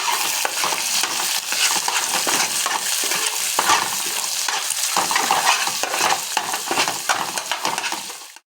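Egg rice with beaten eggs, salt and turmeric stirred in a frying pan, a loud close sizzle running throughout with repeated scraping strokes of a spoon against the pan.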